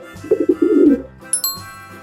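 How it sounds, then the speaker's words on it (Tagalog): A single pigeon gives a short run of soft, rolling coos, followed by a brief high tinkling sound and a faint low coo. "Pigeon."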